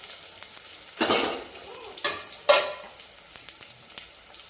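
Onion and green chili frying in a pan for biryani, stirred with a few louder scraping bursts over a steady background sizzle.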